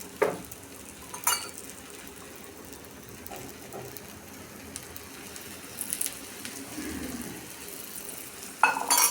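Bottle gourd thalipeeth frying in oil in a pan, a low steady sizzle running throughout with a few clinks and scrapes of utensils, no talking.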